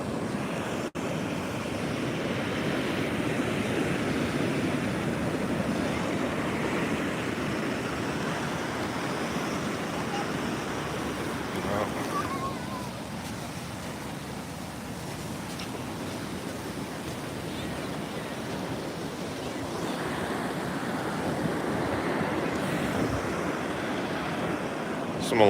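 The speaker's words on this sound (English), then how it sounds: "These waves have already chewed into the beach a bit." Hurricane surf breaks steadily on a Delaware beach at Bethany Beach, a continuous loud roar of crashing waves with wind buffeting the microphone, easing slightly midway before building again.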